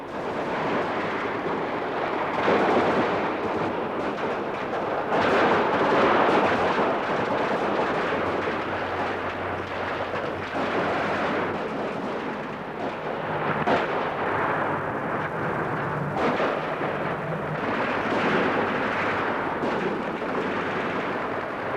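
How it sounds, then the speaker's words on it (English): Street fighting in the 1989 Romanian Revolution fills the air with a continuous, dense roar of gunfire and artillery, loud and rumbling throughout with no clear separate shots and no talking. "coming under fire from snipers and returning countless thousands of rounds"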